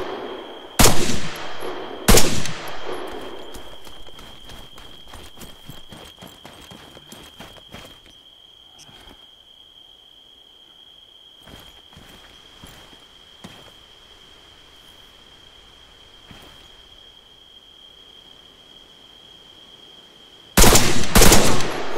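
Gunfire at night in ARMA 3: two loud bursts open, then scattered sharp shots of varying distance with a steady high tone underneath, before another loud burst of fire near the end.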